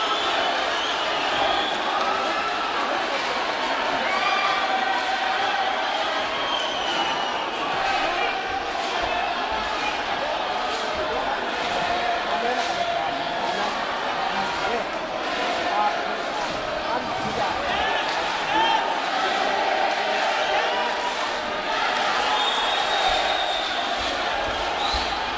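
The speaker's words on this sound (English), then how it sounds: "When the crowd in the Orient is singing like that, you know we're getting behind their man" Boxing crowd at the Orient during an IBF International junior flyweight bout, a sustained dense roar of voices singing together, steady and loud throughout with commentary-style talk layered over it.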